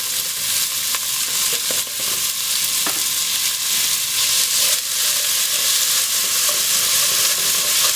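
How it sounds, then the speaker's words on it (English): Chopped onion sizzles in a hot pan for a pork and Hatch chile stew, a loud, steady frying hiss close up, broken by occasional stirring scrapes and no talk. "So I'm going to add the onion now."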